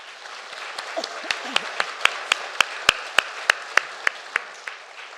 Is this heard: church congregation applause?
yes